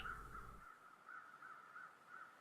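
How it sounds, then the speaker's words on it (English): A second group of crows in The Long Dark caws off in the distance, five or six rasping calls in an even rhythm, faint and unaccompanied after a short low thump at the onset. "I'm hearing another set of crows"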